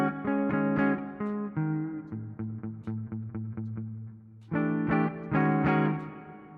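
Instrumental music with pulsing distorted synth or guitar chords run through a reverb effect plugin set to economy quality, steady repeated notes with short echoing tails, loud and alone.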